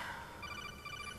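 A codec call rings in Metal Gear Solid: The Twin Snakes, a faint, quick electronic trilling tone pulsing in short repeated beeps.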